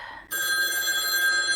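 A telephone bell starts ringing abruptly in an art studio workspace, a loud, steady electronic trill that continues without a break after a quiet moment of room sound.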